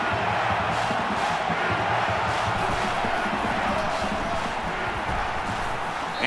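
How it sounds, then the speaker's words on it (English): Stadium crowd in the college football video game NCAA 14, a dense, sustained roar of cheering and yelling, loud and constant throughout. "This crowd comes to play themselves."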